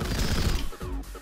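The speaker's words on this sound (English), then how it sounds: "Is that a Gatling cannon?" A Gatling cannon fires in the video game Rengoku: The Tower of Purgatory, a dense, loud burst of rapid shots that stops sharply and leaves a couple of fainter thuds, with no speech.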